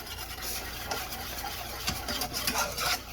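Homemade gravy from pan drippings is whisked in a pan, a soft rapid scraping and swishing close by, fairly quiet over a low simmer hiss, with a small knock at the end.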